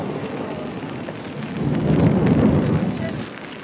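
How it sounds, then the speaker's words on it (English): Rain falls steadily on city streets in Lille, a dense, even hiss that swells louder midway through, with no talk. "you can see again it's raining"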